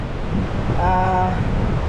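Steady, strong wind buffeting the microphone in Guiuan, with a constant roar and a faint tonal hum rising briefly in the middle.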